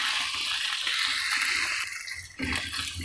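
Water is poured into frying masala for Pakistani aloo keema, a bright splashing hiss that runs for a few seconds, dips briefly, then sizzles back up loudly.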